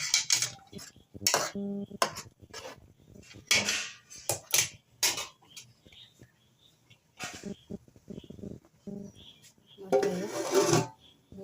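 A pot of chicken curry stirred with a metal spoon, giving irregular scraping and clanking strokes against the pot's sides, some close and loud, separated by quiet pauses.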